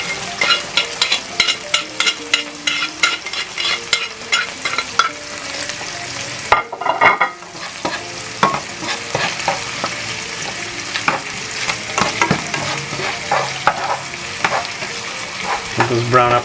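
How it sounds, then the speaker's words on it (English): Onions go into a pan of browning pork spleen and fry with a loud, continuous sizzle, broken by frequent sharp stirring scrapes and clacks at close range, with a brief lull partway through and no talking. "I'm going to go ahead and add the onions in."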